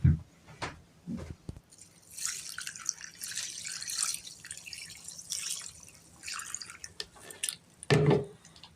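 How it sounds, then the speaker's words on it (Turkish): Water is poured into a container while making homemade pickles from wild kaldırık greens, with soft trickling and dripping splashes interrupted by thumps and handling noises at close range. "Azıcık daha su koyacağım."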